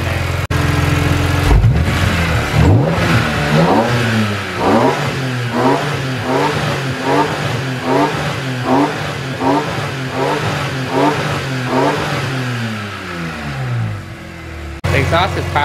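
A BMW E46 M3 fitted with a loud universal aftermarket intake revs repeatedly, the engine note climbing and dropping in a rhythmic series of sharp blips, close and loud.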